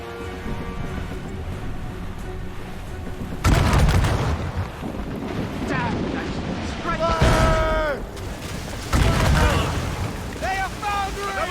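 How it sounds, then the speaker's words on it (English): Mortars from enemy fire ships boom during an Assassin's Creed Rogue naval battle: three heavy, rumbling blasts spaced a few seconds apart over a constant background roar, with raised, shouting voices in between. "They're firing mortars!"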